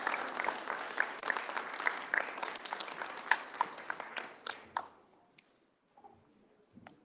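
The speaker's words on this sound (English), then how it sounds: "Let's have a huge round of applause to our Consulate" An audience at a Shivaji Maharaj Jayanti celebration in the USA applauds the consul with a burst of full clapping that thins out and stops after about five seconds, leaving near-silence with faint stray sounds.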